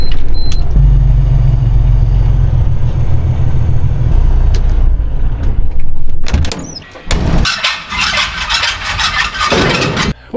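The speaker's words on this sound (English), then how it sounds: "I'm going to throw this truck in the shed" A pickup truck rumbles at a low idle for several seconds as it pulls into a shed, then the engine cuts and sharp clattering and banging from the shed follow.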